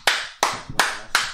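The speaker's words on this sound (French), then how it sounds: "tu peux me faire des applaudissements" Four slow, evenly spaced handclaps from a studio audience, crisp and close, each ringing briefly before the next with nothing else heard.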